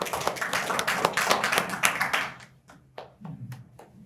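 An audience applauds after a lecture at a science and culture forum on metaverse technology: loud, dense clapping from many hands fades within a couple of seconds into a few scattered, trailing claps.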